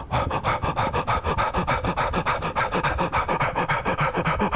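Rapid, rhythmic forceful breathing in a yoga-style breathing exercise, quick sharp puffs repeating steadily about four times a second, close and clear with no talking.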